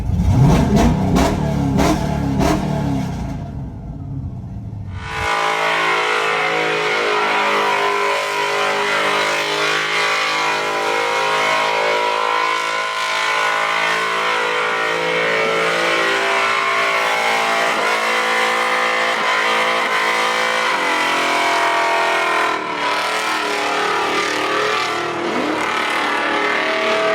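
A C6 Corvette Z06 revs hard in the burnout pit at LS Fest West 2023. Loud, close, rising revs fill the first few seconds, then break off briefly before a sustained, steady high-rpm roar that runs to the end.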